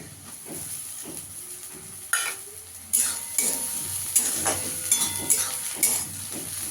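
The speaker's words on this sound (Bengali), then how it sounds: "আমার পেঁয়াজটা একটু লাল লাল করে ভাজা হয়ে গেছে। এখানে একটু আদা আর রসুন থেতো করে রেখেছি, এটা দিয়ে দেবো।" Onions browned in hot oil sizzle as crushed ginger and garlic go in for chicken kosha, with a loud steady hiss and repeated sharp clinks and scrapes of a spatula stirring in the pan.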